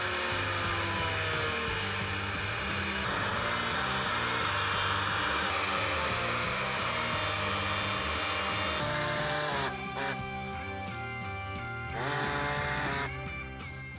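A power tool cutting a 5th-generation Toyota 4Runner bumper whines steadily and loudly, its harmonic pitch shifting as it bites into material, then cutting in and out in bursts toward the end.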